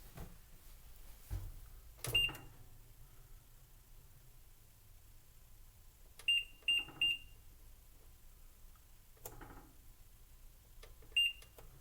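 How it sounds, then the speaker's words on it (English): Short, sharp electronic beeps from a kitchen timer being set while brewing kombucha, a single beep, then a quick cluster of three and a lone beep later, over a quiet background. "The timer has now been turned on, and I will now push on the timer."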